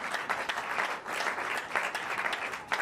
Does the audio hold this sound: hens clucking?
no